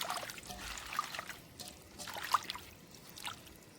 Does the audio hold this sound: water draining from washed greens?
yes